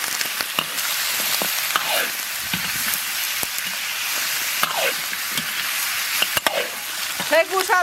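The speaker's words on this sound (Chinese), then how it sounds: "锅里倒油，炒点糖色。" Oil crackles and sizzles in a wok as sugar is fried for caramel colour, with close, dense popping and occasional stirring scrapes throughout.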